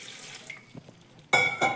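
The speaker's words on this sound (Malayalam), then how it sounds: "നമുക്ക് ആവശ്യത്തിന് വെള്ളം ഒഴിച്ചു കൊടുക്കാം" Water is poured into a pot of chopped, salted jackfruit, a soft trickle first, then a louder splashing gush in two short bursts near the end.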